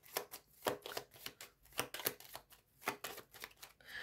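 Tarot cards shuffled and handled at close range in a quiet room, giving a run of soft, quick riffling snaps and slaps in irregular bursts with no talking.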